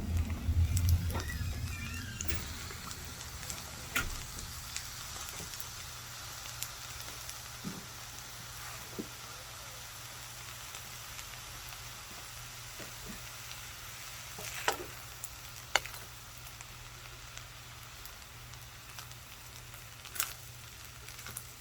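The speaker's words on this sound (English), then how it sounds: "So I am going to add some soy sauce at this point." Soy sauce poured into bacon fried rice in a hot pan, a loud burst of sizzling at first that settles into a steady frying hiss with occasional stirring clicks, close and without talk.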